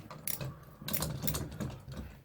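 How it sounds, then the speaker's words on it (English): Ratchet driver clicking while a TV mounting bracket is fastened to a wall, heard as a close series of quick metallic clicks and grinding bursts in uneven spurts, with no talking. "you hear the ratchet?"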